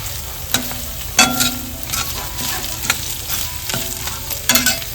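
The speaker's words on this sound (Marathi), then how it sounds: "बघा, इकडे मस्त कांदा परतवून झालेला आहे. याच्यामध्ये तेजपत्ता घालून घेतोय." Onion sautéing in a pan for kadai paneer, a continuous close sizzle with repeated scraping stirs and a few sharper utensil knocks against the pan.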